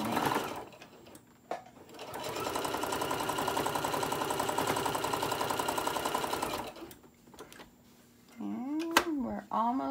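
A sewing machine stitches the seam of a fabric bowl koozie in a steady, fast mechanical run lasting several seconds, with brief pauses and handling noise at the start and end.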